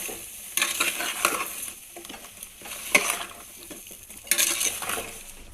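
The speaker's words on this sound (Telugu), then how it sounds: "పసుపు పైన ఇది తిప్పుతున్నాం." Tamarind and turmeric being stirred in a pan for Andhra-style sambar: a spoon scrapes and rattles against the metal in repeated uneven strokes, close and fairly loud, with a faint sizzle underneath.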